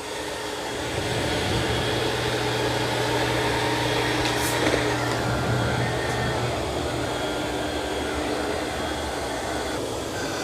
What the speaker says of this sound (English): Okay, so it's vacuuming.